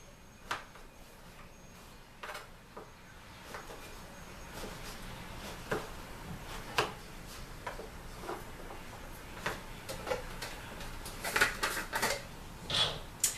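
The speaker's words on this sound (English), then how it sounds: "I'm just going to chop it into just some small chunks for the blender" A knife chops zucchini into small chunks on a cutting board, producing irregular sharp taps that grow quicker and denser toward the end, close and fairly quiet.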